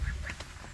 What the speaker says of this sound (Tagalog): Oh, nagado ato itik ni.